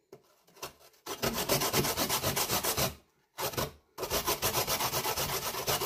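An avocado seed is scraped against a hand grater in close, loud, rhythmic rasping strokes. A brief gap comes after the first few scrapes and a longer one later, and then the steady grating resumes.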